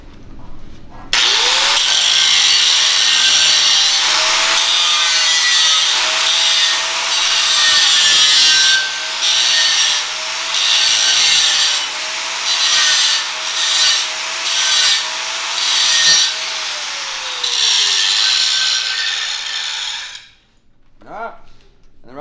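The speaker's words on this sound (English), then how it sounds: "grab that cutting wheel, and all I'm going to do now is I'm not going to worry about the center of the weld." A cutting wheel grinds along the toes of a root-pass weld on pipe, producing a loud, steady, high whine that runs about twenty seconds with slight dips in pressure before spinning down, with no other sound over it.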